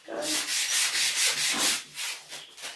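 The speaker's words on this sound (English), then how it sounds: "I'm sanding around my block." Rhythmic hand sanding on wood, close up, with back-and-forth rasping strokes in a steady pulse and no talking.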